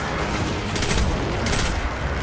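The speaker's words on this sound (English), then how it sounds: "That's impressive for a grenade launcher." Grenade launcher fire in the Destiny 2 video game, a dense, noisy barrage of booming blasts with two bright bursts standing out, loud and continuous throughout.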